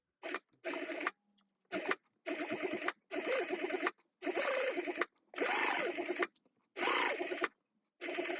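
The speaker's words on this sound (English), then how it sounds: "Now you are going to sew down the edge with a 1/4 inch seam allowance" A sewing machine stitches a 1/4 inch seam along the edge of a vinyl tote, running in repeated short loud bursts separated by brief pauses.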